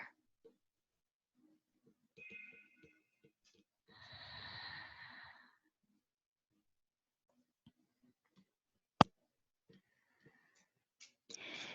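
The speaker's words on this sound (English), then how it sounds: "Got just 2 more deep breaths here" Slow, deep breaths during a mixed-level yoga session: a couple of soft, drawn-out exhales in a quiet room, separated by stillness, with one sharp click near the end.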